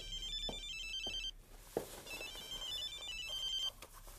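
Indoor telephone ringtone from an incoming call. Two bursts of a bright, repeating electronic melody are separated by a short gap, with a few soft knocks and movement sounds between them. The ring plays clearly at moderate volume with no talking.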